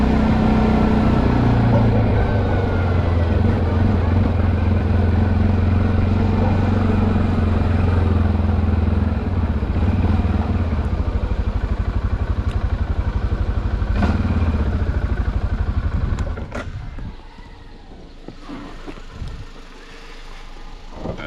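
A Linhai 550/565 ATV engine accelerates in high gear up to 35 km/h while towing a Jeep Cherokee in neutral. The loud, close engine drone holds steady for about sixteen seconds, then drops to a quieter rumble with some clatter.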